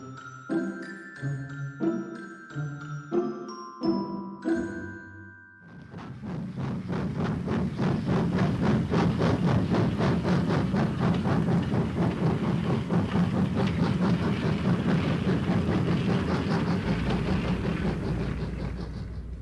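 A steady rumbling roll of a moving train with rhythmic clatter, a radio play sound effect preceded by a short run of plucked musical notes; loud and continuous, with no voices.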